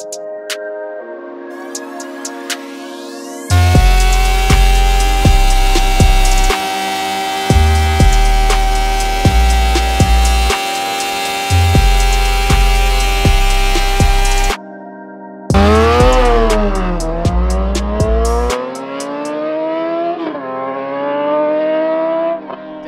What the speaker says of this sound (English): we're gonna do a roll race